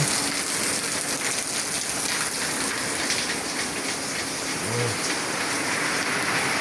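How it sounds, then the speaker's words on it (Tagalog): Heavy rain pours down steadily, a dense, loud hiss of drops drumming on surfaces with no pause. "Malakas pa rin ang ulan."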